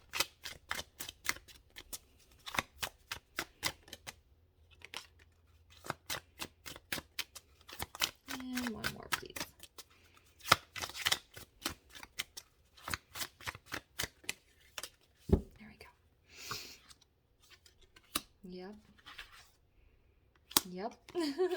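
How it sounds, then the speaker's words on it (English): Guidance cards are shuffled and drawn in a run of crisp, quick riffling snaps and taps close by, with a few softer pauses and brief voices between bursts. "Can we get 2 more guidance cards, please?"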